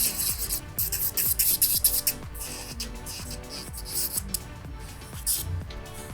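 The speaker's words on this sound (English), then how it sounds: "And with the sanding band, I can easily achieve that already." Close, repetitive scratchy rubbing from a sanding band filing a gel nail, coming in quick rhythmic strokes with a faint high whir behind them.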